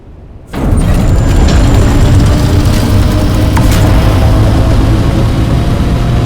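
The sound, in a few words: copter engines in video game Dune: Awakening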